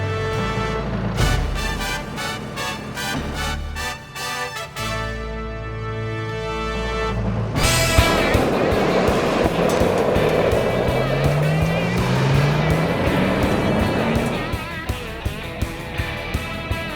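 A 2017 Chevrolet Colorado ZR2 and a 2017 Toyota Tacoma TRD Pro race off-road, engines revving hard with rising and falling tones, then giving way to a loud, rough rush of driving noise and rattling.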